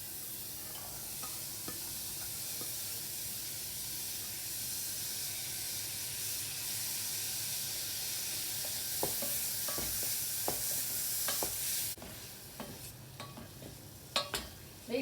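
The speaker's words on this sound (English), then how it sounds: "Wait for the mushroom to saute in the butter nicely" Mushrooms sauté in butter with minced garlic for a cream of mushroom soup, a soft, fairly quiet steady hiss that later picks up scattered clicks and scrapes of stirring.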